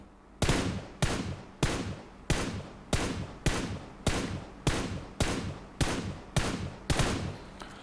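Gunfire in a mobile shooter game heard through Black Shark JoyBuds wireless gaming earbuds on an iPhone: a dozen sharp, evenly spaced single shots, each followed by a short decaying tail, loud and with no talk.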